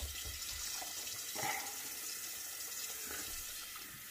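Kitchen or bathroom tap running steadily for a rinse, a continuous hiss of water into a sink at moderate level with no talking over it.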